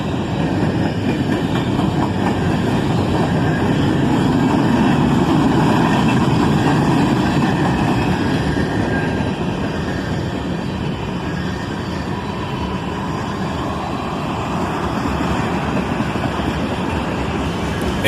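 A Norfolk Southern local freight train rolls across a bridge, a dense continuous rumble and clatter of wagons and wheels, loud and steady from start to finish with no voices.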